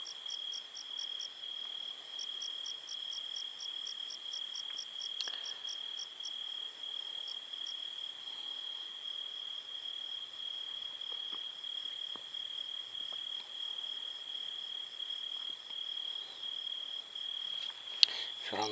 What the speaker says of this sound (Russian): Сверчки вон жужжат